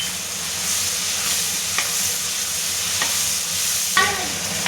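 Garlic, curry leaves and coriander sizzle steadily in hot oil, a close continuous frying hiss with a few soft stirring clinks from the pan.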